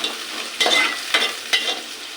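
Chopped onions fry in hot oil, with a steady close sizzle and three distinct stirring scrapes that swell at regular intervals. No one speaks.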